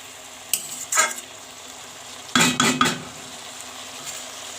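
Banana flower is stir-fried with spices and prawns in a pan. Two short bursts of a utensil scraping and clinking against the pan rise over a faint, low sizzle, with quiet gaps between them.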